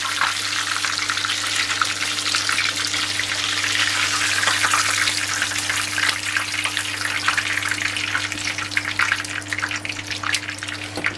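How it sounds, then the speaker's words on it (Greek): Breaded pork schnitzel fries in a pan with a loud, steady, dense sizzle and crackle of hot oil that holds unbroken for about eleven seconds, over a faint constant electrical hum. "Να τηγανίσουμε τα επόμενα"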